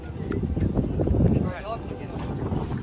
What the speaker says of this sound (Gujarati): લાડુ આપડી બોટ રેડી થઈ ગઈ.